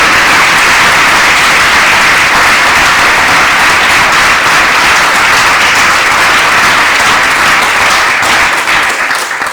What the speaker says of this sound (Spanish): Aplaudan al Rey de Gloria entonces.